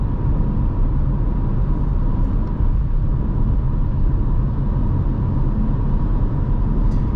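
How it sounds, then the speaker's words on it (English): Steady, loud tire roar inside a 2023 Dacia Duster facelift with the 1.5 dCi 115 hp diesel, cruising at 100 km/h on rough tarmac at night: an unbroken low rumble that stays constant throughout. "Now at 100 you can mostly hear tire noise, that's natural for cars, and this is a little rougher tarmac here"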